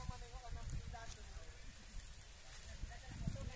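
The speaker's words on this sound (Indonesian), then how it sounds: "Hujan turun nih" Rain falls on an outdoor kite-flying field, a dense, steady patter and spatter close by, with rumbling low thuds and faint background voices mixed in throughout.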